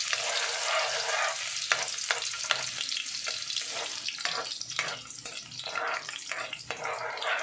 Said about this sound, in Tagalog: kumulo ng mantika, ilagay ko na ng bawang